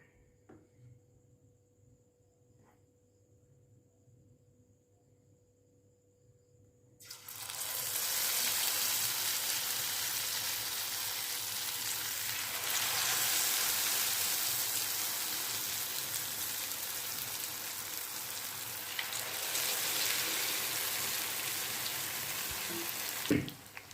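Pieces of food drop into hot coconut oil in a pan, and a loud, steady broadband sizzle starts abruptly after a quiet stretch and carries on without a break.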